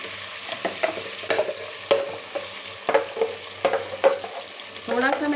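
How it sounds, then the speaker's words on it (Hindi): Meat browning in ghee in a pan for chicken kadhi, with steady close sizzling and repeated sharp clinks and scrapes of a spoon stirring at an uneven rhythm. "अब मैं गोश्त को थोड़ा सा घी में भूनूंगी।"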